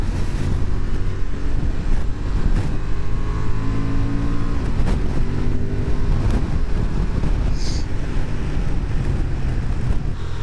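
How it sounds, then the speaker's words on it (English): A Honda Transalp XL750 motorcycle with its stock exhaust roars steadily at speed on twisty roads, its induction and exhaust sound blended with constant wind buffeting over about ten seconds, with no voices. "There's some nice induction roar and a pretty fruity stock exhaust."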